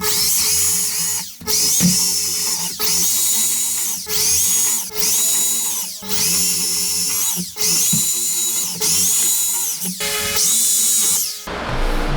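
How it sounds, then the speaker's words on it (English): A power drill bores holes in a grid for a dust collection system, running in repeated loud high-pitched bursts of about a second each, with short pauses between holes, close by and alone. "I'm going to go ahead and drill the rest of them with this."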